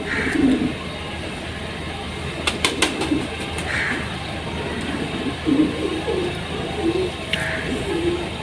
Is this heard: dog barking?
no